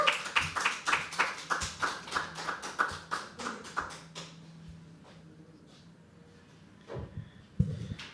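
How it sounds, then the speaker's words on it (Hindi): A small open-mic poetry audience at The Habitat claps to welcome the next performer, with distinct rhythmic claps for about four seconds that fade into quiet room noise, then a few scattered sounds near the end. "जोरदार तालियों के साथ बुलाएंगे अगले परफॉर्मर को"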